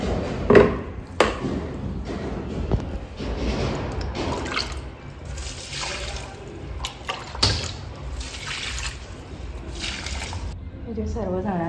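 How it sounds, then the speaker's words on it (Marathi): Water drips and splashes while balcony potted plants are watered at home, with irregular close patters and splatters through the scene and speech-like sounds over the top. "त्यांना पाणी घालते"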